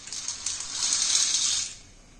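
Soft watery splashing and hiss as dry pasta is dropped into a pot of boiling water, a steady close bubbling rush that fades away after a couple of seconds, with no talk.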